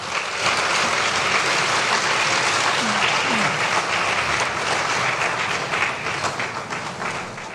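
Loud, dense applause from a large audience at a national International Women's Day event led by the First Lady, continuous and full before tapering off slightly at the end, with a faint voice briefly audible within it.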